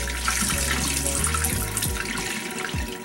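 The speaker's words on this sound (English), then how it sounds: "So I'm going to take part of the water in the sink" Pasta cooking water pouring out into a kitchen sink, a steady loud rushing splash with gurgling low bubbles throughout, close to the ear.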